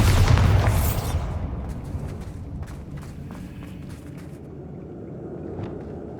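A Bombarda spell explosion in Hogwarts Legacy bursts loudly at the start, then decays into a rumbling tail with scattered small crackles and debris sounds.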